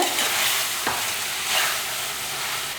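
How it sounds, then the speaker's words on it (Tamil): Chicken sautés in a hot pan, giving a loud, continuous sizzle with a few scraping strokes of a spatula mixed in. "ஒரு நிமிஷத்துக்கு நல்லா வதக்கிடலாம்"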